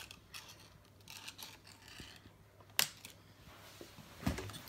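Scissors snip tags off a refurbished Dyson CY22 Cinetic Big Ball Animal cylinder vacuum, with faint rustling and handling noise and a couple of sharp, close clicking cuts.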